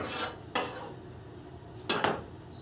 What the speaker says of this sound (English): Mix it all again together, just like that.